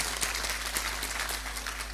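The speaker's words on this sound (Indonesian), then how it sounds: "Coba tepuk tangan untuk Purworejo." Audience applause at an evening community gathering in Purworejo, a dense, steady wash of many hands clapping, somewhat distant and moderately loud throughout.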